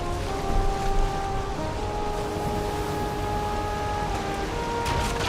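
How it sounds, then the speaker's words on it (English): Steady rain and rolling ocean surf surround a boat at sea at night in the video game Valheim, a dense continuous wash with faint tonal game music running underneath and no talking. "it's night time, it's raining, and I'm in the ocean"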